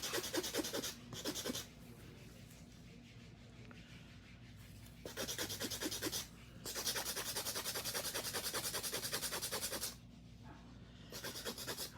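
Acrylic nails being filed with a nail file, a close, steady rasping scrape in repeated strokes that stops and starts in several bursts, with no talk.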